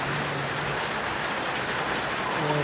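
Torrential rain falls outside shops as a faint, steady, even hiss that runs the whole time without a break.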